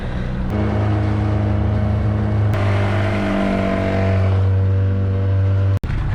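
A motorboat engine in a Fiji anchorage channel, working hard to tow a sailboat, gives a loud, steady, close droning hum that rises in pitch partway through and cuts out briefly near the end.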